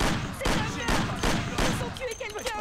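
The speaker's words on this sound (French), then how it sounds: "Oh mon dieu, des coups de feu. Qui c'est qui tire?" Bursts of gunfire in the Mafia video game, a rapid fusillade of loud, repeated shots in an ambush, close and dense, with a voice reacting over the tail end.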